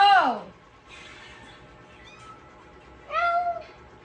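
Several cats and kittens meow in short, high calls: one loud near cry at the start, softer mews in the middle, then another clear meow near the end, with people talking quietly in the background.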